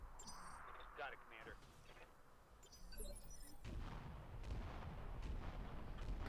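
An artillery barrage rumbles and booms in the Battletech game with the Roguetech mod, with a deep, growing roar under game voice radio chatter, swelling louder toward the end.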